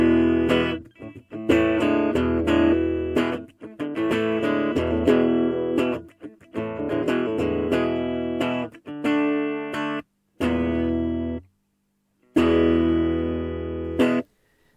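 A Steinberger Spirit guitar on its bright bridge humbucker plays through a Boss MG-10 amp on a clean tone, with strummed chords and picked notes carrying on steadily, brief pauses near the end.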